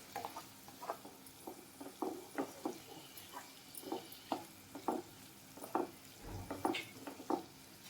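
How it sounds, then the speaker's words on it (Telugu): A spiced onion, garlic and dried red chili paste is stirred in a pan for a beans ullikaram curry, giving a string of soft, irregular scraping and patting strokes, close and fairly quiet, with no one talking. "బాగా కలుపుకోవాలి."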